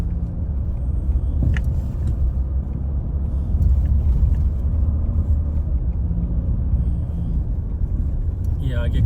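A car crawls slowly along a broken mountain road between Manali and Sethan in Himachal, giving a steady low engine and road rumble close inside the cabin, with a faint clatter near the end.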